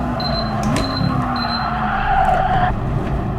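Race car in Gran Turismo Sport skidding and spinning out, a steady engine drone with a brief tire squeal rising near the end, loud and continuous without talk.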